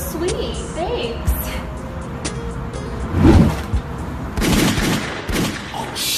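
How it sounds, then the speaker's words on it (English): Bursts of gunfire from a Law and Order episode playing on a TV indoors, several sharp cracks and rattling volleys heard through a room, mixed with people talking and a car-like hum. "somebody's shooting in there"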